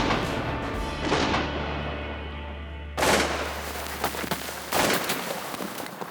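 Shotgun blasts during a waterfowl hunt in Saskatchewan: a few loud, sharp reports spaced a couple of seconds apart, each trailing off outdoors, over a low steady rumble.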